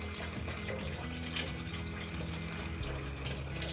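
A cooling pump kit recirculates water out of its outlet, giving a steady, continuous splashing flow with no break across the clip.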